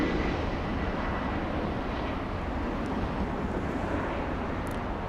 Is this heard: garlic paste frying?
no